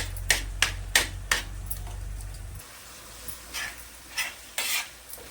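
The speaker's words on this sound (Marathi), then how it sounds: "हा कच्चा मसाला आहे ना त्याच्यासाठी चांगला व्यवस्थित असा भाजून घ्यायचा आहे यातलं तेल सुटेपर्यंत" Raw masala for an egg tawa masala being stirred and roasted in oil, with a close, rhythmic series of spoon scrapes against the pan over a steady background hum that cuts out partway, then softer irregular stirring strokes.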